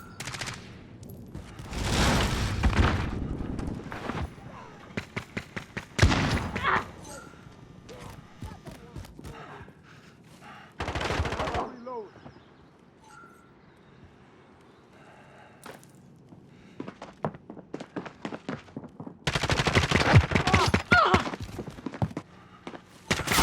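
Modern Warfare shooter gameplay brings repeated bursts of automatic gunfire, loud and close, broken by quieter gaps with scattered clicks and thuds.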